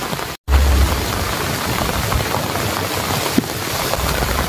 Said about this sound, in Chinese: 然后就下雨了。